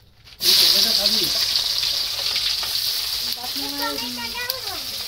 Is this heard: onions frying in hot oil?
yes